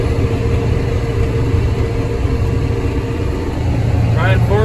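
A tractor engine runs steadily at full throttle while pulling a wagon in a soybean field, a loud constant drone with no change in pitch. A voice speaks briefly near the end.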